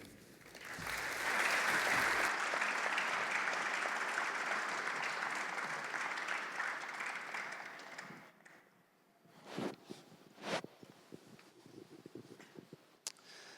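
Audience applause at the National Gallery of Victoria welcoming David Holmgren, a full roomful of clapping that swells quickly, holds steady for several seconds, then thins out to a few scattered claps.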